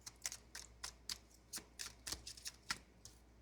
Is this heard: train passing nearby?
no